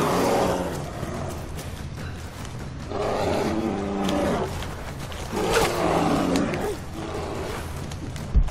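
A bear in the Rise of the Tomb Raider video game gives loud, repeated growling roars in several long bursts, close and dominant, with short lulls between them.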